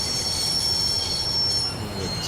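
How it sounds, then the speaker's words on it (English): A train in the adventure game Broken Sword brakes hard, its wheels letting out a loud, sustained, piercing metallic squeal over a rumbling rolling noise, close and without speech. "I'd always wanted to stop a train, and now was my chance."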